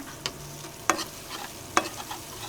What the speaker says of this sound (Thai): อันนี้พี่ปอผัดกระเทียมให้พอเหลืองแล้ว